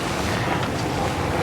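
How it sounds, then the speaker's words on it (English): Stormy Mediterranean sea off Palma, heard from aboard a Hanse 360 family cruiser under sail: constant broadband wash of waves and roaring wind buffeting the microphone, loud and close throughout with no voices. "we've got some good old stormy med weather out here"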